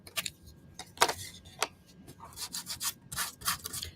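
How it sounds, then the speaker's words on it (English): Short, scratchy rubbing strokes come in irregular bursts, like sandpaper worked by hand over a tray's hard surface, fairly close and moderately loud. "I'm just sanding this off a little bit to smooth it out"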